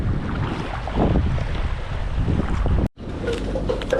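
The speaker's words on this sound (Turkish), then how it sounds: "Bayağı rüzgarlı esiyor." Strong wind roars steadily across the microphone on the island of Koh Phangan, Thailand, buffeting and gusting without pause, with a brief dropout near the end.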